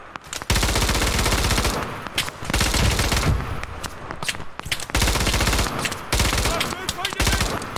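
A belt-fed machine gun in the video game Operation Harsh Doorstop fires long, loud sustained bursts at close range, broken by a few brief pauses.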